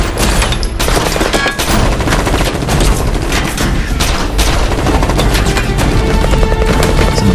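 Brutal, relentless gunfire from an action film as attackers bombard a hideout: loud, continuous overlapping shots and heavy booms with no pauses throughout.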